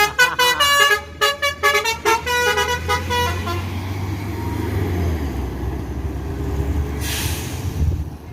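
Horn honking from an intercity bus on a congested road in Indonesia, starting with a series of rapid, loud toots and then giving way to a steady engine rumble and traffic noise.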